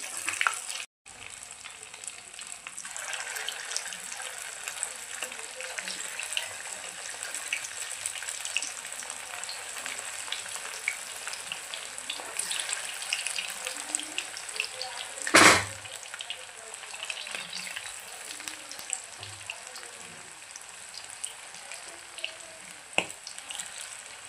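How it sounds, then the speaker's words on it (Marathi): Spicy chicken pieces deep-fry in hot oil, a loud, continuous close-up sizzle with a steady crackling hiss and one brief louder burst of spattering partway through. "आता बाकीचे पीस पण अशाच पद्धतीने आपण तळून घेऊया."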